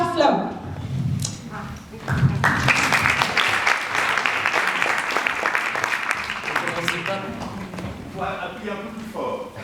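Audience applause at a 90th jubilee gathering as the next speaker is introduced, a dense, steady clatter of many hands clapping that swells and holds for several seconds, with brief voices before and after.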